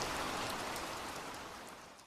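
Steady rain falls in a dense, even hiss of countless drops, fairly close and continuous, fading slightly toward the end with no voices.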